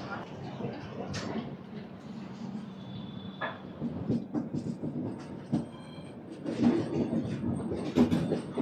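The Janmabhoomi Superfast Express pulls out of Guntur station with a low, moderate rumble and soft wheel clacks, with a few squeaks and murmuring voices in the background.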